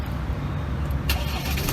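A Ford Wildtrak 2.0 pickup's engine is started by push button. A quiet interior hush gives way midway to the engine catching with a sudden, close burst of sound, which then settles into an idle.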